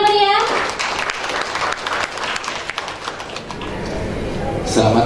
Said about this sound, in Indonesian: Boleh kita beri tepuk tangan yang meriah.